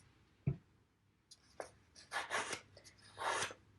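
Paper is folded and creased for a pop-up book: a soft tap, then several dry, close crinkling rustles and scrapes at a low level.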